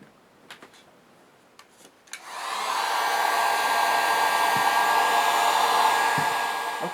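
A few small clicks and taps, then a hair dryer switches on and blows in a steady, loud, close whoosh while it heats the frame of an STI Spartan 1911 pistol, no voices.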